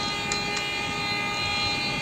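A WDM3D diesel locomotive in Microsoft Train Simulator runs at about 112 speed, giving a steady, close engine drone and rolling rumble that holds level throughout, with no voices.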